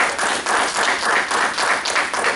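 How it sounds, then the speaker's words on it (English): Audience applause after school principal presentations: a short, steady burst of clapping from a room full of people. "let's give a round of applause."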